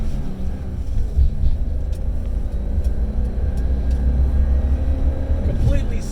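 A 1984 BMW 633 CSi coupe drives on the road and shifts through the gears, a steady low engine and road rumble from inside the cabin with a few faint clicks.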